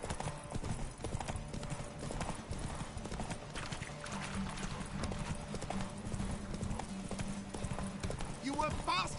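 Roach, Geralt's horse in The Witcher video game, gallops with a steady, rapid clip-clop of hoofbeats throughout, close and prominent, while voices talk over the running.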